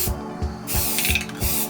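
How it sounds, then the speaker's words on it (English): Spray paint hisses onto a Chevy Silverado pickup in close, repeated bursts, with short rhythmic clicks of the nozzle between passes. "Make sure we get a good spray on that."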